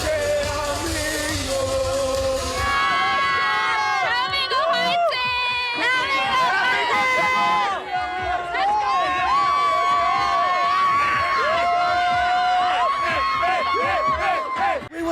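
A crowd of Korea supporters cheers and yells without pause, a dense sustained roar with shouting voices and chatter layered over it, loud and close throughout.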